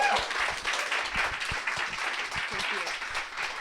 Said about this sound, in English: Can I get a round of applause for Danielle before we break?